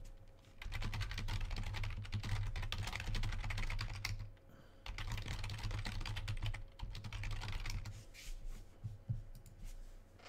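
Rapid typing clatters on a computer keyboard during a dinner-plans message, a dense run of close, crisp keystrokes with a short pause near the middle and sparser taps toward the end.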